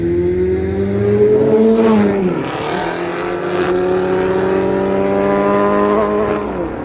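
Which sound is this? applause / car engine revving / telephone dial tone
car engine revving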